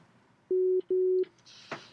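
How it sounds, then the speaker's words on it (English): Two short, pure sine-wave synthesizer tones beep one after another at the same pitch, clean and steady, followed by a brief soft noise. "You literally just have a sine wave."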